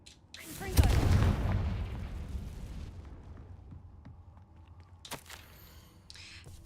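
A bomb blast in the Hogwarts Legacy video game: one loud, booming explosion bursts near the start and rumbles away, with a few sharp magical crackles afterward.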